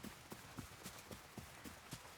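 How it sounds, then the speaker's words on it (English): In the video game Ghost of Yōtei, a horse's hooves clip-clop in a steady, even rhythm. The sound is faint and sits in a continuous wash of ambient noise. "Can I bring the horse up here?"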